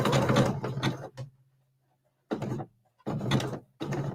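A sewing machine back stitching a zigzag over rope, three or four short, loud mechanical runs separated by near-silent gaps.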